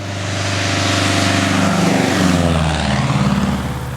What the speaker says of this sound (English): Sound Ideas is taken to the skies to record airplanes